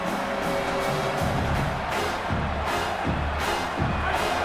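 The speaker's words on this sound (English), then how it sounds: "This crowd rising up, sensing that its defense needs some help." Stadium crowd in a football video game roaring steadily throughout, a dense sustained wash of cheering with swelling surges and low rhythmic pulses underneath.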